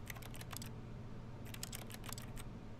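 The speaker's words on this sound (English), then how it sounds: "It sounds like I'm clicking a keyboard when I click on anything." Keyboard-style key clicks play whenever the player clicks on objects in The Stanley Parable; bursts of rapid clicking come in two clusters over a steady low background hum, with no talking.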